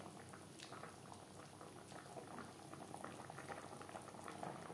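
Fish in mustard-paste gravy boils in a pan on a gas flame, a soft continuous bubbling and popping that stays close and steady throughout.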